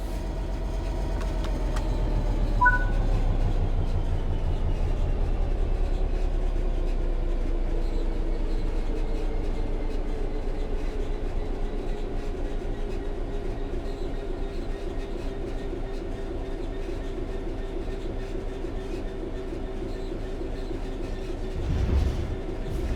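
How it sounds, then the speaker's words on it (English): A train in Train Sim World 3 coasts steadily on level rails with a low continuous rumble and faint tonal whine that slowly drops in pitch, with a brief clank near the end. "The train will then coast on level ground, and the train will only slow down very gradually."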